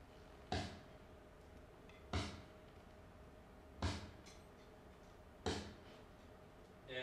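A flat, dull snare drum from a self-produced song hits four times at an even, slow interval, each stroke short and thuddy with a quick decay, heard alone over a faint hum.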